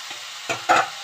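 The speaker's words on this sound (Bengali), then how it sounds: "পাঁচফোড়ন ফোড়ন দিয়ে আলু ভেজে এই যে ঝিঙা দিয়ে দিয়েছি।" Potatoes and ridge gourd in a pan with panch phoron give two short stirring scrapes and a brief sizzle, close and otherwise quiet.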